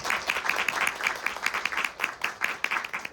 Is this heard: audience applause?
yes